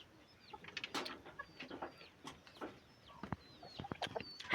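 Chickens cluck nearby in short, irregular bursts of clucks and brief calls with quiet gaps between them, ending on a louder squawk.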